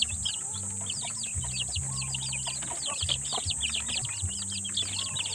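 Shamo chicken chicks chirp busily together, a dense stream of high peeping calls over a low steady electrical hum, with no talking.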